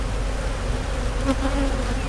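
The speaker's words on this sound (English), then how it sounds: "These bees are no fun right here. They're all over the microphone." Honey bees buzzing loudly and continuously right on the microphone during a hive frame inspection, a dense droning hum, from a colony with European foulbrood.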